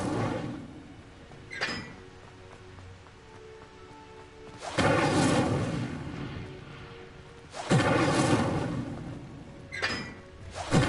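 Incendio fire spells are cast in Hogwarts Legacy, with deep roaring whooshes and booming bursts swelling and fading in several waves over a rumbling background.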